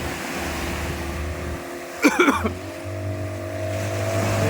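Motorboat running over the Arabian Sea off Munambam Beach in Kerala, a steady low engine drone with wind and wash, broken by a brief bump of splashing noise midway.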